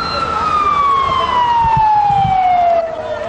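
A fire engine siren wails at a large night fire that is consuming wooden single-storey houses. The single loud, sliding tone falls steadily in pitch as it passes close by, with faint background noise from the scene.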